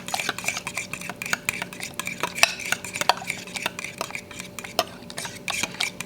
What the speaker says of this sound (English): Whisk it up real good.